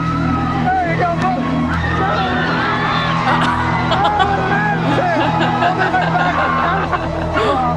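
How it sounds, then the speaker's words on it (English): A crowd screaming, whooping and laughing in a Star Trek scene, a dense, loud, continuous roar of many voices. "listen to the crowd scream"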